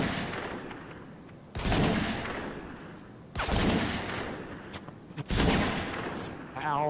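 Three heavy bursts of automatic gunfire on the Terminal map in Modern Warfare 3, each loud and sudden, then trailing off into a rumbling echo, spaced a couple of seconds apart.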